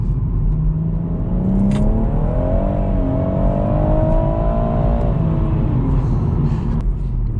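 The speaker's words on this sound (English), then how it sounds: "But here we go, listen to the noise." A BMW M140i's engine revs hard under acceleration, a loud, continuous rising growl with climbing harmonics that peaks, eases back, then pulls again, close and alone with no talk.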